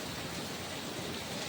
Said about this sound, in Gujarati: ઉપર ને ઉપર કેવો વરસાદ આવે જો